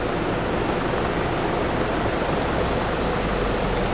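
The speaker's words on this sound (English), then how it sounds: "the river in the background." The Rio Perlas river in Cartago, Costa Rica rushes in a steady, dense, continuous wash of flowing water, even and unbroken with no voices.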